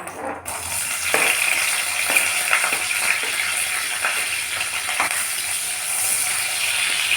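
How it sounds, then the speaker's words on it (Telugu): Onions and green chillies dropped into hot oil, bursting into a loud, steady sizzle after a brief quiet start, with occasional clicks of a spoon against the pan. "ఆయిల్ వేడెక్కిందండి. ఉల్లిపాయలు, పచ్చిమిర్చి వేస్తున్నాను."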